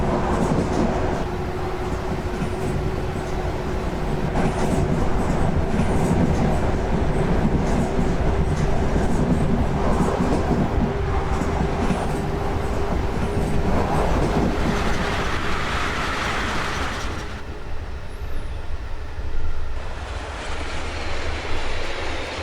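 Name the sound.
BB26000 locomotive hauling freight in a train simulator video game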